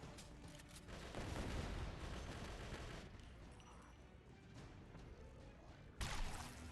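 Explosions and crackling blasts in the Left to Survive video game, a dense roaring burst after the first second that fades, then a sharp new blast near the end, with no speech over it.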